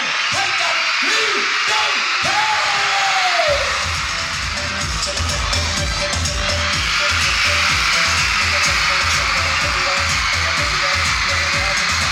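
A loud crowd screams and cheers continuously at a celebrity fan event, with high-pitched shrieks and whoops at the start over a dense, sustained wall of noise.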